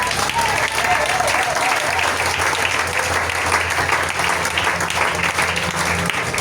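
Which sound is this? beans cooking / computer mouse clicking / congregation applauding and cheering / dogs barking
congregation applauding and cheering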